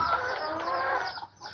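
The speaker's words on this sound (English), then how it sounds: "But yeah, I got these black Oshthorpe hens on the bottom, and then a red native hen." Black Australorp hens and a red native hen with a rooster inside a chicken house give a close, busy stretch of murmuring clucks and low crooning. The sound runs steadily, then dips briefly near the end before picking up again.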